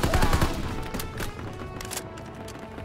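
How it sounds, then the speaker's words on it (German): Rapid bursts of gunfire from test-firing weapons in Call of Duty WWII, dense and loud in the opening half-second, then continuing as scattered shots over game background noise. "Ich sehe nichts, ich schieße einfach nur Probe."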